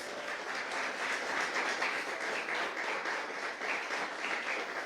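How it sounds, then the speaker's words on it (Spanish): A church congregation at Legacy church in Alajuela, Costa Rica, claps together in a full, sustained wash of applause, dense and even throughout with no voices standing out. "darle un aplauso al Rey de Reyes y Señor de Señores"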